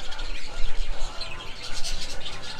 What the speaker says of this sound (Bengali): লাভবার্ড রয়েছে, তাছাড়া আরও অনেক ধরনের পাখি রয়েছে এই খাঁচার মধ্যে